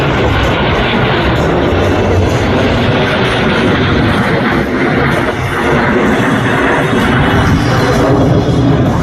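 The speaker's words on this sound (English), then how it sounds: "All three aircraft flying as one in this graceful 360-degree rolling maneuver." Blue Angels jets flying the Diamond Roll in tight formation at an airshow produce a loud, continuous engine roar that fills the whole stretch at steady volume.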